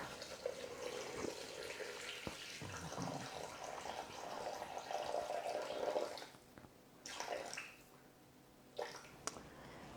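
Water pours into a Thermomix bowl, about 400 g, streaming and splashing at moderate volume with a few clatters and pauses near the end.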